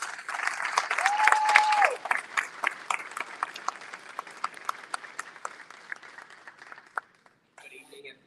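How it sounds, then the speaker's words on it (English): An audience claps to welcome a speaker at an evening reading event in Houston, a loud burst of applause that gradually thins into scattered claps before fading, followed by a brief voice at the end. "Please give him a warm round of applause, Gerardo Iván Morales."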